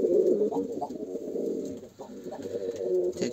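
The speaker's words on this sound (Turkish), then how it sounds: "Tekrardan uçum kümesindeyiz." Pigeons coo steadily in a pigeon loft, several soft repeated calls overlapping at close range with a faint chirp or two, no talking.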